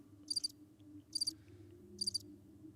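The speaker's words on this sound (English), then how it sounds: "All I hear is crickets now." Crickets chirp in short, bright bursts, three evenly spaced trills standing alone over a quiet, low background hum.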